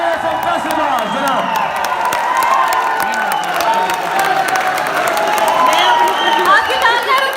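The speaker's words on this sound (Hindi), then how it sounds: "आपकी तालियां रुकनी नहीं चाहिए।" An audience at a mushaira poetry gathering claps and cheers steadily to welcome the poet Ali Zaryoun, a dense, loud wash of applause with whoops throughout and a brief spoken word over it.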